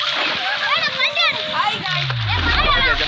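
Boys splash and play in water, with choppy bursts of splashing mixed with excited children's voices and shouting close by.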